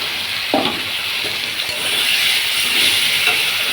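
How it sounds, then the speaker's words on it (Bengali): Spice-marinated fish going into hot oil with fried onions, a loud, continuous hiss and sizzle up close with a few brief stirring clatters. "এবার মশলা মাখানো মাছটা দিয়ে দিই।"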